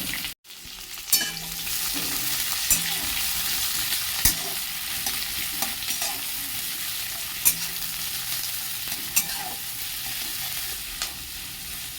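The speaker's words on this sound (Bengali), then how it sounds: "কুচুনো পেঁয়াজগুলো ভালো করে ভেজে নেবো" Chopped onions sizzle steadily in hot oil with bay leaves, dried red chilli and whole cumin, a dense even frying hiss broken by faint stirring clicks and a few spatula taps.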